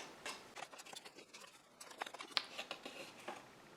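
Soft, rapid crinkling and ticking taps as scored Cricut paper is folded into a gift box, heard close and quiet, without any voice.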